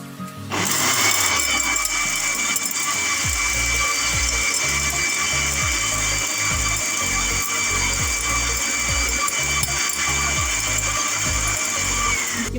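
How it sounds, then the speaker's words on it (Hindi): A blender starts up and grinds whole spices, including cloves and black cardamom, continuously, a loud high whir with rhythmic rattling thumps as contents tumble inside. "अब हम इन सबको ब्लेंडर में डालेंगे और पीस"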